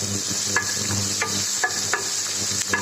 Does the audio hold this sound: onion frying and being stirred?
yes